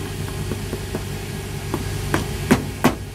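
Rivets are hammered into the heel of a Tricker's shoe during a heel rebuild, with a string of light, evenly spaced taps that grow to two sharper, louder strikes near the end over a steady background hum.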